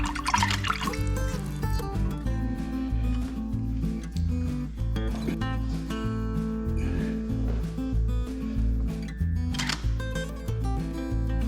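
Oil and water mixture bubbling in a simple cake pan, a steady run of liquid bubbling and dripping textures with bright popping bursts near the start and around the tenth second, close and continuous.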